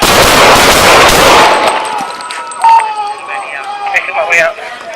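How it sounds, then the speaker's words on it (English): A burst of rapid gunfire erupts loud and close during a police confrontation, a dense volley for over a second, then voices and shouting follow in the aftermath. "We got shots fired."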